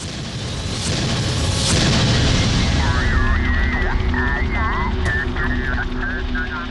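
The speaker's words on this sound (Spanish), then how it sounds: "A menos de un kilómetro del lugar donde se ha estrellado el primer helicóptero, otro es derribado." A Black Hawk helicopter shot down in combat crashes with a heavy rumbling boom and sustained roar, loud and close, while a wavering siren-like tone rises over the din in the latter half.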